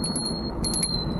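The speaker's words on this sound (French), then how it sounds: "il a une petite sonnette sympa" A small bell on a cheap electric fatbike, ringing in two quick bursts of light dings, the second slightly longer, bright and close over steady outdoor background noise.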